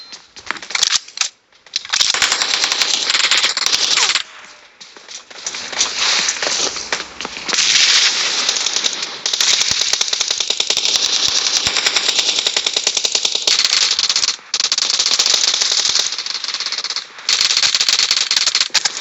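Rapid bursts of automatic rifle fire crackle loudly in PUBG, nearly continuous for long stretches with short pauses between volleys, close and harsh with no talking.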